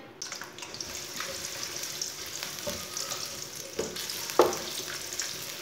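Finely chopped medium onion fries in about a cup of oil with a steady, fairly quiet sizzle, a spoon stirring through it with light scrapes and one sharp clink near the end.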